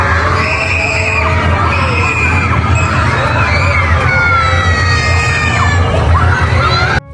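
Passengers on a motion simulator ride with a big screen scream and shout together, a loud, continuous crowd of rising and falling shrieks over a steady low rumble from the ride.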